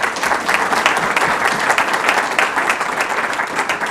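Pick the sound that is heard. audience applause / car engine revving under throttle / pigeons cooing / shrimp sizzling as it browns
audience applause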